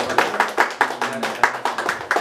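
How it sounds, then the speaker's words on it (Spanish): Rhythmic clapping at a birthday mariachi show, a regular beat of sharp claps about every quarter second, close and fairly loud, with a low voice faintly underneath. "Fuerte el aplauso para Carol, que se escuche"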